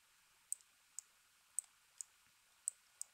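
Computer mouse button clicked six times in a quiet room, crisp isolated clicks spaced about half a second apart, with no talking.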